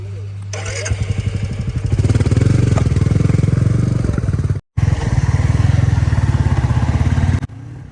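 A motorcycle rides along a road, its engine giving a loud, steady, throbbing drone close by that cuts out for a split second midway and then resumes.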